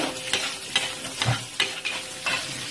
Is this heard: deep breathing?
no